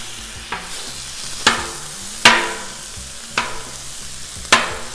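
Ground beef sizzles steadily on a Blackstone griddle while a spatula scrapes and stirs it five times, each stroke a sharp metallic scrape over the constant frying hiss.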